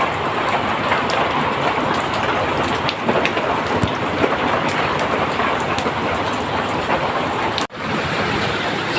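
Heavy typhoon rain pouring down steadily outdoors, a loud dense hiss of drops hitting surfaces with no break except a brief dropout near the end.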